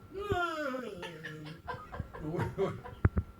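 A voice imitates a chicken, squawking and clucking in a rising, strangled series of cries with laughing breaths mixed in.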